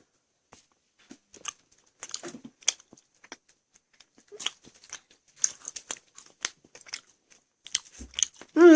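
Someone bites and chews homemade apple candy, crisp crunches and crackles scattered irregularly up close, with brief gaps between bites and a short voiced sound at the end.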